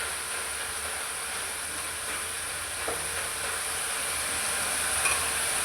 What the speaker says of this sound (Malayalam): ചക്ക ഇളക്കി വറുത്തെടുക്കാം.